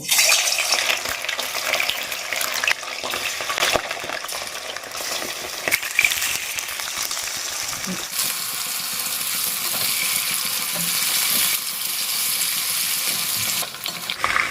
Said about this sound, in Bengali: আমি মাংসটাকে ভেজে নেব